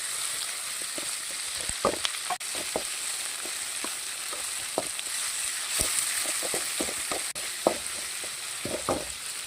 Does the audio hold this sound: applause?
no